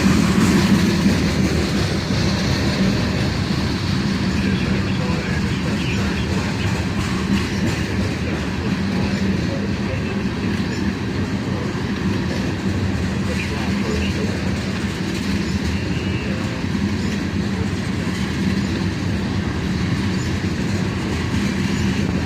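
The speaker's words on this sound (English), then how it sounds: "This unit train is usually big, usually has 3 locomotives, like today, although sometimes it runs with 2, and it's all the same brand of hoppers all the way back." A long freight unit train led by three locomotives and hauling matching hoppers rolls past, a steady loud rumble with rhythmic wheel clatter throughout, while a person talks over it.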